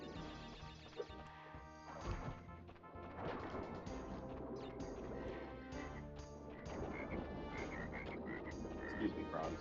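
Frogs croak amid game sound effects in Crash Bandicoot 3: Warped. Repeated croaks and thuds mix with busy background music over several seconds.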